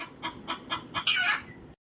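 A hen clucks close by, five quick rhythmic clucks followed by a longer, squawking cackle that trails off into silence.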